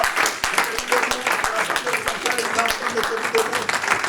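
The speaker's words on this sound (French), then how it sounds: "Je vais vous demander de les applaudir pendant qu'elles se mettent debout." Congregation applauding at a church gathering, a steady wash of many hands clapping throughout, with voices and cheering mixed in the crowd.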